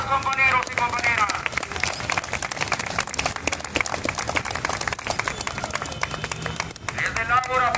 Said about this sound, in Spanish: ¡Palmas patrióticas, compañeros y compañeras!